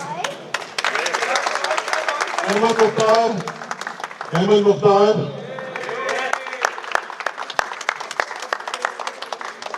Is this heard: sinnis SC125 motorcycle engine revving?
no